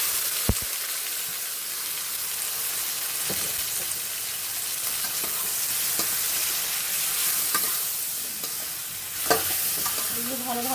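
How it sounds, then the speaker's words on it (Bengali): Fish pieces frying and being stirred in hot oil for a Bengali cauliflower fish curry, giving a steady loud sizzle with scraping stirs throughout, a few sharp clatters from the pan and no talking. "এখন আমি মাছটা ঢেলে দেবো।"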